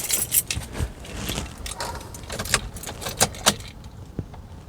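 Keys jangle and clink in a Lexus SC430 ignition as it is turned to the on position, a series of sharp metallic rattles, near and fairly clear, with brief pauses between bursts.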